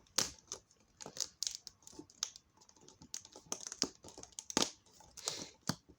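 Perforated cardboard accessories torn from a Cars 2 Retro Red five-pack toy package, giving a string of sharp, close crackling rips and small tears in quick irregular bursts, with no talking.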